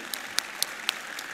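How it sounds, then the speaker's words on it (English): A conference audience at Happiness & Its Causes 2017 applauds steadily, with dense clapping and a few sharper individual claps standing out. "Please give her a round of applause."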